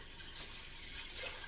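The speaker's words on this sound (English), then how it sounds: "I'm going to add 8 cups of water." Water poured into a pot of beans for soup, a brief continuous close rushing splash.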